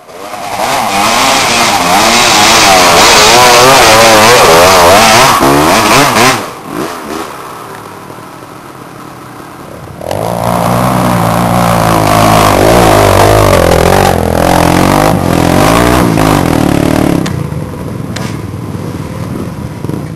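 A loud motorcycle engine on a dirt trail revs hard and roars, drops to a lower idle for a few seconds, then climbs back into sustained revving before easing off.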